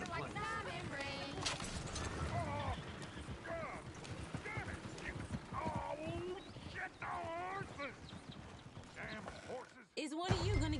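Horse hooves clip-clop in the Red Dead Redemption 2 video game, a steady trotting beat buried under continuous character dialogue and background music.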